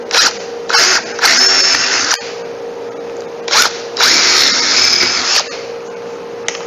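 A power drill bores holes in a guitar template: about four loud, close whining bursts of varying length, each starting and stopping abruptly with quiet gaps between.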